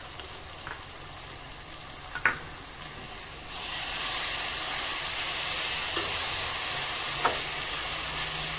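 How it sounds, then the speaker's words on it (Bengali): Ginger-garlic paste and spices hit hot oil for chicken curry and burst into a steady loud sizzle, with a few scraping stirs over the hiss. "মশলাটাকে খুব ভালো করে কষিয়ে নেব"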